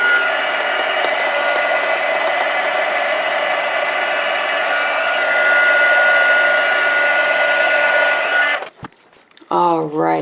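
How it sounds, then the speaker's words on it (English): Heat tool blowing hot air to emboss a stamped paper card, a loud steady fan-like roar that cuts off near the end, followed by a brief voice. "hotter you get your heat tool before bringing it over to your paper, whatever you're heat embossing"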